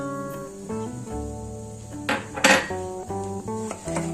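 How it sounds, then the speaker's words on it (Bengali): A spoon scrapes and clinks against a metal pan while ginger is stirred for ginger candy, producing a few sharp metallic knocks and scrapes over steady background music, fairly close. "আদাটা দিয়ে আমাকে ভালো করে চামচ দিয়ে নাড়তে হবে, যাতে নিচে যাতে ধরে না যায় আদাটা।"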